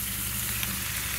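Bacon sizzling in a pan alongside spinach, a dense, steady crackle and hiss of frying fat close by, with no talking.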